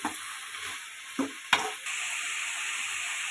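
Brinjals and tomato frying in a pan, a steady close sizzle punctuated by a few scraping strokes of a stirring spoon that grow louder as the hiss intensifies.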